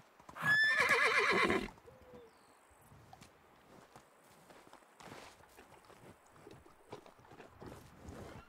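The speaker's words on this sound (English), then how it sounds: "Well, we know where the horses are." A single loud horse whinny rings out near the start, followed by quiet hoof clops and soft shuffling sounds, from the video game Medieval Dynasty.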